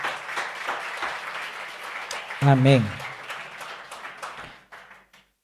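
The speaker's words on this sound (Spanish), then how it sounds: "Dale un fuerte aplauso a Jesús." A church congregation claps in a brief burst of applause at a sermon. A voice then calls out loudly over the fading claps.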